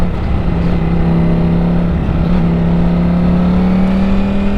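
Ducati Streetfighter V4S motorcycle engine roaring loud and close at sustained high revs, a steady dense drone with a strong harmonic whine throughout.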